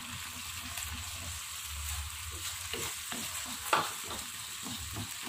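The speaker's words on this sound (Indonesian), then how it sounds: "Ini harus dikocok terus seperti ini biar tidak menggumpal telurnya ya." Beaten egg is stirred steadily into a bubbling Padang-style sauce in a pan, giving a soft, continuous sizzle and simmer with light scraping strokes, quiet and close.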